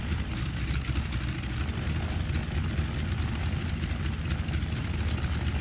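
A DHC-2 Beaver floatplane engine idles in the X-Plane 11 flight simulator, a low, rough, steady drone that stays even and close throughout, with no talking.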